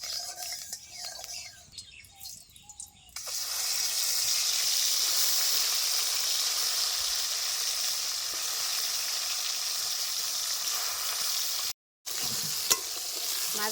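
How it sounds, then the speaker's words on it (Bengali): Fish coated in turmeric and salt frying in hot mustard oil in a kadai, a loud steady close sizzle that starts after some quieter handling sounds and runs continuously with a brief break near the end. "প্রথমে আমি হলুদ লবণ মাখিয়ে মাছগুলি ভেজে নেব।"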